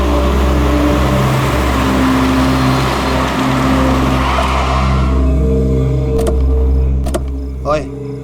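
A car being driven on the road, a loud steady engine hum with road rumble for about five seconds before it drops away, leaving a few sharp clicks and a brief voice.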